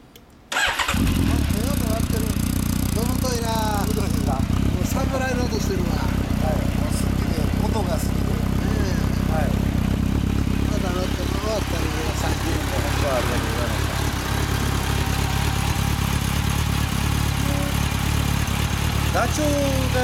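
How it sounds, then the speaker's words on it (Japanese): A 2010 Honda CB1300 Super Four ABS motorcycle fitted with a Nojima DLC muffler cranks and fires after a brief pause, then settles into a loud, steady four-cylinder idle with a deep throbbing exhaust, heard close up as voices talk over it. "エンジン音聞かせてもらえますか？"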